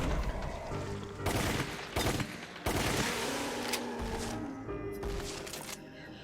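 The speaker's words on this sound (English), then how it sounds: "that's definitely a high-powered submachine gun" High-powered submachine gun fire in the Resident Evil: The Umbrella Chronicles video game, sounding as several dense bursts of rapid automatic shots with short gaps between them.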